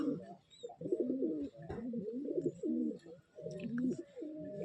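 A male pigeon of an old-line generation coos repeatedly in rolling, throaty phrases, close and steady, with brief pauses between calls and little else around it.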